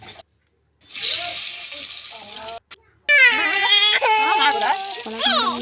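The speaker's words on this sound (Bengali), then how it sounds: "ভালো করে চটকে ধুয়ে নেবো" Raw green bananas are squeezed and washed under running water, a hissing splash from a tap that breaks off briefly before returning, with a voice speaking over the later part.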